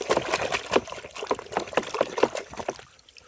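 Water trickles and splashes in uneven bursts while a toy truck is washed, close irregular dribbling and pouring that tapers into near quiet at the end.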